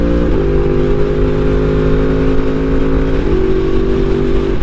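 A Yamaha R1 sportbike's engine droning loudly as it is ridden in the canyons, with two quick auto-blip downshifts that shift the engine note mid-run, under constant wind rush.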